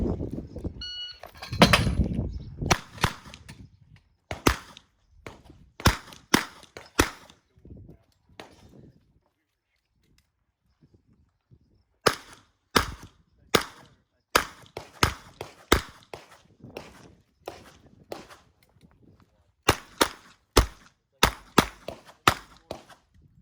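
Sharp, loud gunshots crack out during a shooting match, fired in irregular bursts and quick strings with pauses between, heard close through a range setting.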